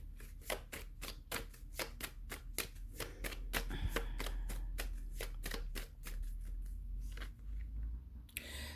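A deck of tarot cards is shuffled close by, with soft, rapid, rhythmic riffling and flicking. The sound is quiet and steady over several seconds, and no one talks.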